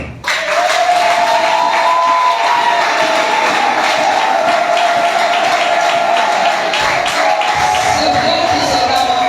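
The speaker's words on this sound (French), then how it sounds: "Je demande aux femmes d'acclamer ce point." A large crowd of women erupts into sustained loud cheering and ululating acclaim in response to a speech, a dense roar that carries on steadily without pause.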